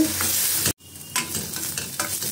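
Brinjal (eggplant) sautéing in a pan gives a close, steady sizzle with spatula stirring strokes. It breaks off sharply for an instant, then the frying picks up again with more scraping.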